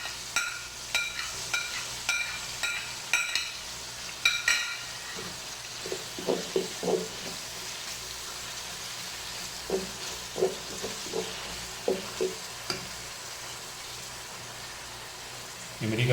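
Garlic goes into a pan of hot oil with whole red chillies for chana pulao: a continuous frying hiss with scattered crackles and spits, plus a few clinks and scrapes of a utensil in the pan.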